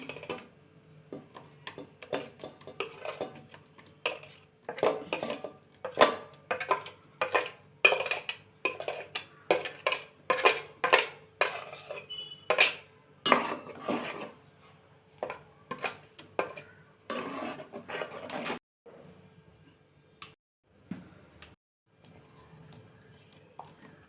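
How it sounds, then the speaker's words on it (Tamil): Ginger garlic paste sautéed in a pan for crab gravy: a spatula repeatedly scrapes and clacks against the metal pan in a rhythmic series of close strokes, then slows and trails off near the end. "இப்போ பச்சை வாடை போகிற வரைக்கும் வதக்கணும்"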